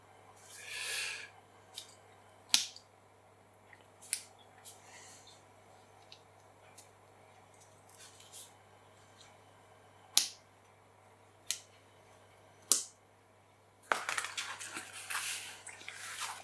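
Printed handbook pages for the Encounter game are folded and the spine pressed flat: sparse, crisp paper snaps and creases at irregular intervals over quiet room tone, ending in a denser burst of close crinkling and rustling.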